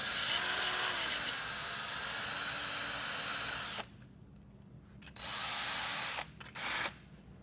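A power tool whirs close and loud while scrubbing corrosion from the battery terminal tops of a 2017 Chevy Malibu. It runs steadily for about four seconds, then returns in a few shorter bursts with quiet gaps between them.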